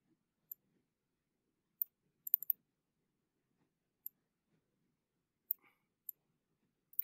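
Sparse, faint clicks from a computer keyboard while C# code is typed, landing as isolated single presses and a brief quick cluster in an otherwise silent room.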